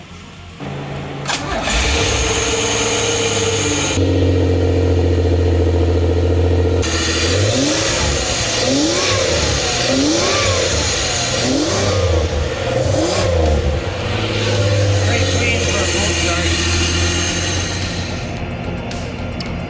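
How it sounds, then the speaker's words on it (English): A supercharged 3800 V6 in a Ferrari F355 replica cold-starts with a cranking burst, catches and settles into a loud, close idle, then revs up and down in repeated rising and falling pulls before easing back. "This is a cold start."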